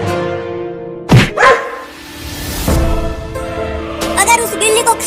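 A dog gives a couple of sharp barks and then yips in a cartoon scene, with loud speech running throughout and a voice over the barking.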